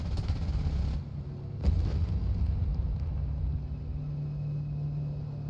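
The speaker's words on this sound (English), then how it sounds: "As a bonus, I destroyed the helipad and the nearby trucks. The explosions never get old." Explosions of a destroyed helipad and trucks in the flight combat game Nuclear Option rumble heavily, with a sharp blast burst near the start and deep, rolling low booms that settle into a steady drone.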